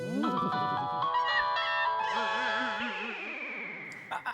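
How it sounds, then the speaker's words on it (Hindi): A mobile phone ringtone playing a bright electronic melody in a household scene from the comedy Taarak Mehta Ka Ooltah Chashmah, moderately loud with warbling tones that fade toward the end. "फोन है सुंदर, फोन"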